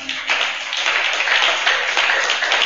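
A small audience gives a thin, half-hearted round of applause, a steady faint patter of hands lasting a few seconds with no voices over it.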